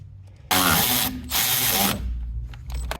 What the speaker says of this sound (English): I like to snug them down with a wrench, just kind of like this